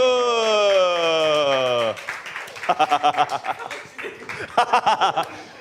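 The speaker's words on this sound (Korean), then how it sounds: "네, 박수." A youth church group breaks into clapping and laughter, first a sustained harmonic tone, then a burst of rapid uneven claps mixed with chuckles and scattered voices.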